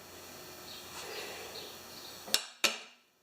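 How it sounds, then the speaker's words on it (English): Two sharp metallic hammer blows strike a Craftsman 7.75 HP self-propelled lawn mower being worked on for its carburetor, loud and close, coming late after a stretch of quiet workshop background. "Big hammer, eh?"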